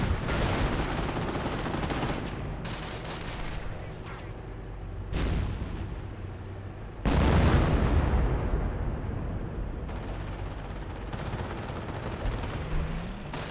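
Rocket barrage explosions in Company of Heroes, a dense battlefield of booming blasts and gunfire rolling continuously, with a heavy impact around the middle and a steady rumbling din throughout.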